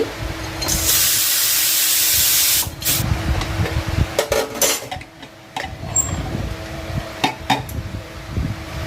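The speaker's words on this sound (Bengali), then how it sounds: "এবার কুকারের ঢাকনা খুলছি" A pressure cooker of cooked dal is opened: a loud steady hiss of escaping steam for about two seconds, then metallic clanks and rattles of the lid being handled.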